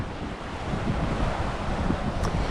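Strong wind of 15 to 20 knots at sea aboard a sailboat crossing the Caribbean, a loud continuous roar of wind buffeting the microphone mixed with rushing water.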